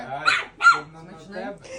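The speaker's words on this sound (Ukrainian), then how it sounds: "Ти на мене гавкала?" A dog barks indoors, two sharp barks close together near the start, then quieter yips, while someone talks over and around the barking.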